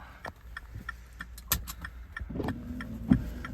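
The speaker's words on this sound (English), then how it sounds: "I'm gonna stop the engine real quick." BMW car engine being switched off, a brief engine whir and shutdown amid clicks and small cabin clatter, fairly faint and close, with no talk.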